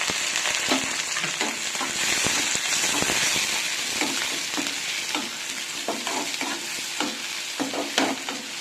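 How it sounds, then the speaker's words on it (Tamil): Sliced onions, green chili and curry leaves sizzle loudly in hot oil with popped cumin seeds for a Tamil goat blood stir-fry. The frying hiss is continuous and close, with repeated scraping from stirring. "சீரகம் பொரிஞ்சிச்சு. இப்போ நம்ம வெங்காயம் சேர்த்துக்கலாம்."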